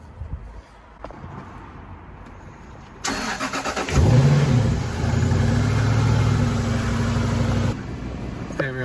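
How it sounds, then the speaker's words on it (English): A Jaguar XK starts up with a quick crank and catch, then revs up loudly with a rising engine note and settles into a steady, strong idle close to the listener. "There we are, started the car"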